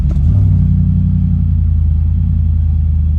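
A Y62 SUV's engine on a cold start, held at a steady, loud, low rumble with a brief rev at the start, throaty exhaust droning close by.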